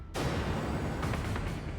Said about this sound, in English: this whole potash facility is just ripped apart by a tremendous explosion.